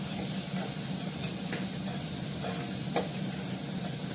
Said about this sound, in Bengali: দেখো এটাকে ভালো করে ভেজে নেবো